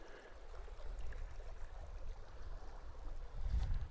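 Pigeon River water flows near a former dam site, a steady low rushing with a swell toward the end, continuous and fairly close with no talking.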